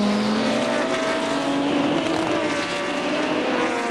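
Race cars of a 1985 IMSA GTP event at Portland roll in a pack behind a Mazda pace car, their engines making a steady, loud continuous drone with no pauses for its whole length and no talk over it.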